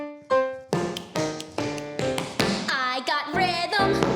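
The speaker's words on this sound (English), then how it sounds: "The sound of my taps is a clue that helps me remember" Tap shoes click through a lively dance routine, sharp percussive taps landing in a steady rhythm, close and loud, over a bright backing melody with a singer.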